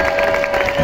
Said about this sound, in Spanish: ¿Dónde están los aplausos del público de la línea de salida de Lugo para Mikel Landa?